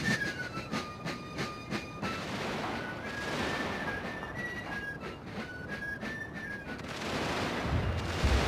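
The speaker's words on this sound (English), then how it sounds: "So they're starting to fire because I'm on the fire line" Musket volleys crackle in a Napoleonic-era Carlist Wars battle in Total FotS, a cluster of sharp shots early on over a continuous low battlefield rumble with faint high whistling tones throughout.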